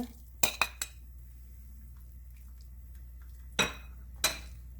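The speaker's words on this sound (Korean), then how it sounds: "살짝 구운 두부 썰은 건 다 넣어줍니다" Sliced, lightly grilled tofu goes into a soup pot: a few sharp metallic clinks and scrapes of a utensil against the pot in short bursts, separated by quiet stretches.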